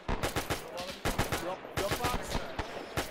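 Bursts of US .30 cal machine gun fire in ARMA 3 during a WW2 Operation Torch beach landing, with repeated rapid volleys, loud and close, and brief gaps between them, while voices talk over the shooting.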